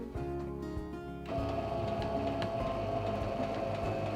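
A sewing machine stitching a quilt, starting with a quieter hum and then settling into a steady, close mechanical whir with rhythmic needle clatter, no talk.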